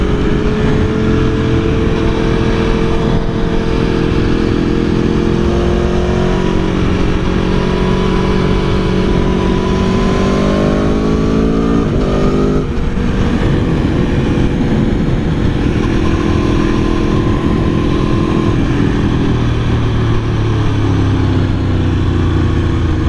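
An Aprilia Tuono V4 1100 motorcycle riding on a track day, its loud engine droning steadily and rising and falling in pitch through the gears, with heavy wind rush, constant throughout and with no talking.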